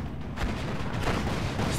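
In the Steel Division 2 video game, a self-propelled gun fires on a Sherman tank, with two heavy booms about half a second apart over a dense, rumbling battlefield din.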